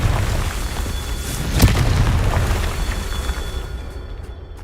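A Confringo fire spell bursts in Hogwarts Legacy, a single deep boom with a sharp crack at its peak, set against a steady low rumble of ambient game noise that fades near the end.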